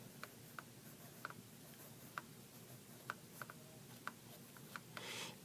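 A marker writes the word mandate on a board. Faint, sparse taps and short scratchy strokes come in an uneven rhythm, close up and alone.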